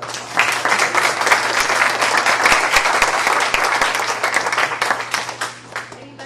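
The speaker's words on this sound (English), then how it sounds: "a big round of applause." Audience at a university faculty colloquium applauding the speaker, a lively round of clapping with distinct close claps over a steady hum, swelling quickly and tapering off toward the end.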